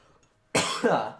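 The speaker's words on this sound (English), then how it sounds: "Cough." A single sharp cough, close and loud, with a brief second burst after a short near-silence.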